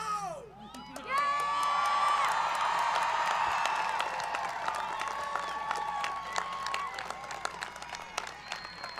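A high school graduation crowd at a stadium field erupts in loud, sustained cheering, whooping and applause, with sharp whistles and claps scattered across a dense, continuous wall of noise that stays strong throughout.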